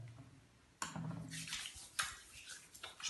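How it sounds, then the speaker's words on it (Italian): Hands lathered with soap are rubbed together at a bathroom sink, making faint wet squelching and swishing that rises suddenly and continues in uneven bursts, close and quiet. "lavoriamo bene le mani in questo modo"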